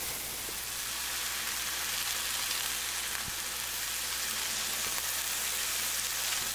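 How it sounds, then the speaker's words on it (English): Steady, hissing sizzle of maple chicken breakfast sausage patties frying in a pan, continuous and fairly loud with occasional small pops and no talking. "So I'm just frying up patties this size to make sandwiches out of."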